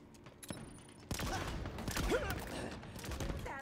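Rapid alt-fire rocket shots from a weapon in Halo Infinite, with a dense burst of booming blasts and explosions rising abruptly after a quieter start, loud and sustained in game audio.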